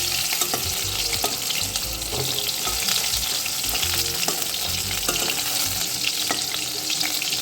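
An amudi fish chop fries in hot oil, giving a dense, even crackle and sizzle with light stirring scrapes throughout.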